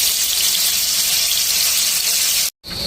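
Tofu frying in hot oil in a pan, a loud, steady, hissing sizzle that runs continuously, cuts out abruptly for a moment near the end, then resumes.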